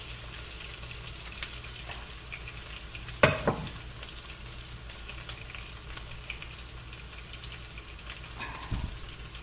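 Onion frying in a pan with a steady broadband sizzle throughout, coriander stems dropped in partway with a brief louder rustle and clatter, followed later by a short knock of stirring.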